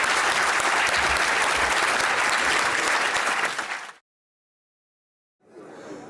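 Conference audience at the 2018 Indonesia Update applauding panellists, loud steady clapping for about four seconds that cuts to silence, then resumes more faintly.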